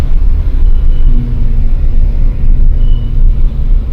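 A car climbs a steep hill road near Kalimpong toward Deolo Hill in first gear, with light rain falling. The engine makes a loud, continuous low drone and rumble up close inside the car, with no speech.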